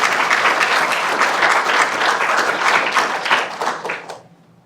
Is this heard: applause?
yes